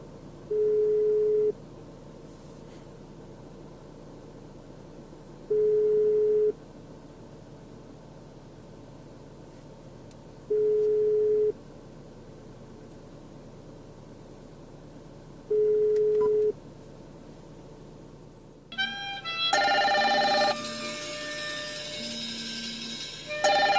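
Regular ringback tones through a car stereo, a Dasaita PX6 head unit, sound four times at even intervals, each about a second long; then a louder burst of sound follows as the call connects.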